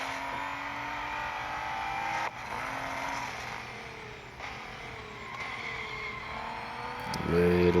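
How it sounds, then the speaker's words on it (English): Nissan Z racing through a corner in a driving game, engine droning steadily while tires hiss and skid through repeated gear shifts, close and continuous with no talking. "A little bit of skidding."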